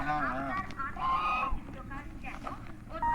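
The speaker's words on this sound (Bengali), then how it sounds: "কত রাজহাঁস দেখো" Geese at the lakeside of a reservoir by a large earthen dam give repeated nasal honks that overlap in a busy chorus at a moderate distance, with faint outdoor background noise.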